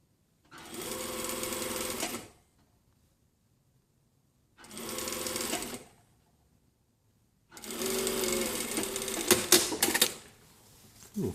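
A sewing machine stitches a garment together in three close runs of about one to two seconds each, separated by silent pauses, with clattering handling noises at the end.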